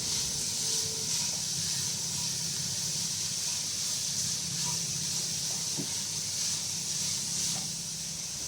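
Onion and beetroot sautéing in a pan for beetroot thoran, giving a steady, even sizzling hiss that carries on throughout with no voices.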